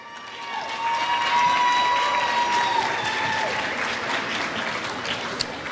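An audience applauds the NPS youth ambassadors at a youth excellence program ceremony, with steady, dense clapping that holds for several seconds, a few whistles or cheers rising above it.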